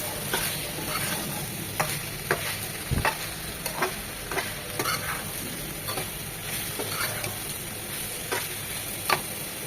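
Tomato sautéing with fish masala in a pan for a katla fish curry, a soft constant sizzle punctuated by repeated clicking stirs of a spatula at an uneven rhythm, close and without talk.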